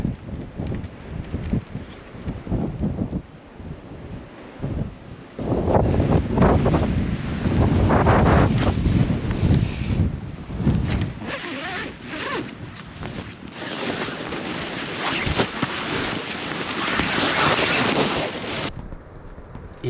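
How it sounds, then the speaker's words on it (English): Strong gusting wind batters the microphone at a windswept Manitoba whitetail hunting camp, surging in loud roaring waves and easing briefly between blasts, with nothing else audible over it. "It's so windy."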